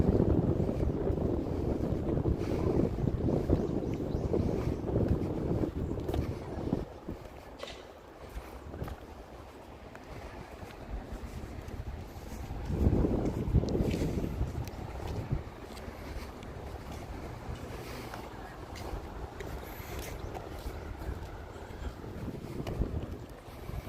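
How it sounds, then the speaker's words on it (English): Wind gusting against a microphone on an outdoor walk by the Tamagawa river in Tokyo during cherry blossom season, a steady low roar that swells and fades in broad gusts throughout, with no talking. "especially right now it's windy"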